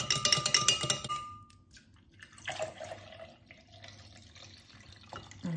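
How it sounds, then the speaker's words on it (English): Soy milk poured into an Instant Pot for yogurt: a soft liquid trickle and splash, close but faint, coming in short bursts with quiet gaps between. "Okay, then we're gonna go in with some soy milk."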